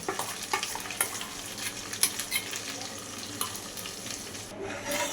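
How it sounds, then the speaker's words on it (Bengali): A spoon stirs a yogurt mixture with ginger into a gently sizzling pan for a ridge gourd curry, with a steady frying hiss and a few soft scraping clinks. "দইয়ের মিশ্রণ দিয়ে ভালো করে মিক্স করে নিতে হবে"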